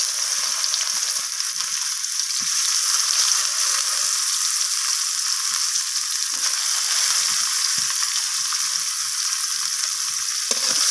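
Chopped onions frying in oil for an egg curry, a bright, steady, hissing sizzle that holds evenly throughout with faint occasional stirring taps underneath.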